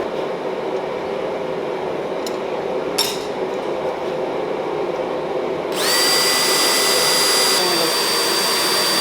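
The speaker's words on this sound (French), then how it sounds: "J'ai dit, moi, essayer de le percer quand il est bien chaud, juste voir." A drill press bores into hot forged metal, first as a steady motor hum with a couple of knocks, then rising into a louder, sustained whining grind with a high ringing tone.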